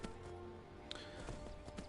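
Horse hooves clip-clop in steady rhythm while riding a horse in Skyrim VR, a game in which the mount bobs up and down; the steps stay moderately close and even, with a faint music or ambient bed underneath.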